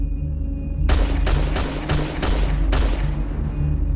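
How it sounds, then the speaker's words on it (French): Six sharp gunshots crack in quick succession, fairly loud with a slight echo, then a low background hum continues. "Lorsque les coups de feu retentissent, on le voit s'arrêter net."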